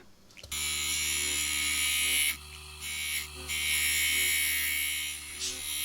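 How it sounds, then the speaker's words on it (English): A small drill bores a tiny hole in a small disc for a model locomotive lamp, its high whine starting abruptly and dipping briefly twice as the load changes. "That involves drilling a very small hole in those discs that Dawn made for us"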